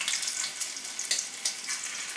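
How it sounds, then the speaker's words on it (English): Meatballs sizzling in a pan of hot oil, a steady bright hiss with faint crackles, close and continuous with no talking. "You'll hear them sizzle."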